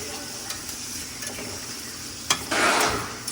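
Onions being stirred in a pan with plenty of bacon grease, a soft scraping stir with a low sizzle, rising to a louder burst of frying near the end; close and alone, no talk.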